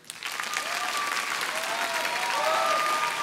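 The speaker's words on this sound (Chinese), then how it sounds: "给我一点掌声。" Steady, full applause from a comedy-club audience fills the room, a dense clapping wash with a few whistles and cheers riding on top, holding evenly throughout.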